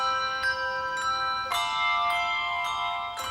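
Handbells rung by a cathedral handbell group chime in a slow, clear sequence of bright, sustained tones that ring out and overlap, close and alone without talk.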